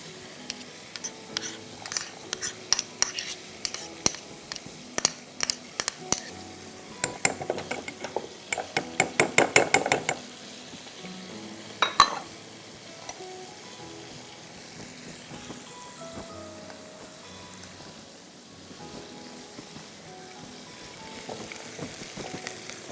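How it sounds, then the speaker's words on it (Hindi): Crushed garlic sizzles in melted butter in a pan, a faint steady frying hiss broken by sharp clinks and scrapes of a utensil stirring against the pan, busiest in the first half. "जैसे ही बटर मेल्ट होगा हम इसमें डालेंगे कुटा हुआ लहसुन, बहुत सारा, 2 टेबलस्पून"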